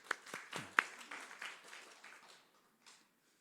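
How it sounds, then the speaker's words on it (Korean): A small congregation claps briefly during a church service, a few sharp, scattered claps at first that thin out and fade to near silence. "박수 한번"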